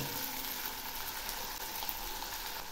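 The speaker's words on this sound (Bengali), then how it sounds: "এখন আমি এর মধ্যে দিচ্ছি টুকরো করা একটা টমেটো। এই টমেটোগুলো খুব ভালো করে ভেজে নেব।" Chopped tomato pieces frying in oil in a pan for katla fish curry, giving a steady, dense sizzle that runs unbroken throughout with no pauses.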